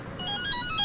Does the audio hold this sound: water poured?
no